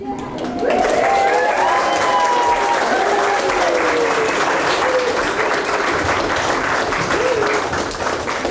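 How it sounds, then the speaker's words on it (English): Loud, sustained applause from a wedding crowd after the kiss, with cheers and whoops rising over the steady clapping throughout. "Let's have a round of applause"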